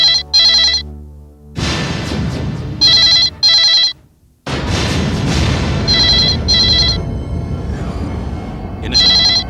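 A telephone rings loud and close in repeated double bursts of trilling electronic bell tone, separated by short gaps, over a dramatic background score with a brief silent drop.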